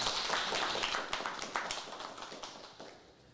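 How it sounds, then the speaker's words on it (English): Audience clapping for participants at a gun club community town hall, a steady patter of many hands fairly distant and soft, gradually tapering off. "So give them all a round of applause here for participating."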